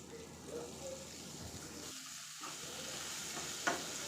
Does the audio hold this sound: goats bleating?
no